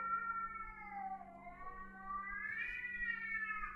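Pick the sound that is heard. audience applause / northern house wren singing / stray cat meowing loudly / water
stray cat meowing loudly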